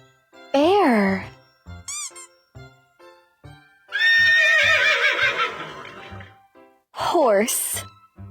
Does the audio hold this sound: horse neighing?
yes